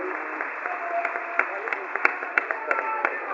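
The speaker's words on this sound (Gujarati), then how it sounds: "પુનશ્ચ તાળીઓના ગડગડાટ દ્વારા આપણે પૂજ્યશ્રીને વધાવી લઈએ." An audience applauds a revered speaker at a Pushtimarg devotional discourse. The clapping is brief and fairly close, with sharper individual claps toward the end and a voice heard alongside it.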